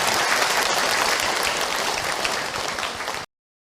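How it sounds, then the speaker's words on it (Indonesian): Dense, steady applause from an audience at an Islamic religious talk fills the clip loudly, then cuts off abruptly just before the end. "Tepuk tangan buat Ibu Nur Hayati."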